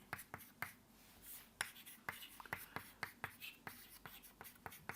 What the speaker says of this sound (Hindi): तो मैं नियत ताप का ही लिखता हूं